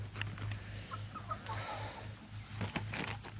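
Chickens give soft, scattered clucks and short calls close by over a low steady hum, with a faint rustle or flap near the end.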